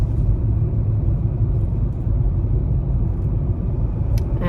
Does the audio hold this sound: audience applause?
no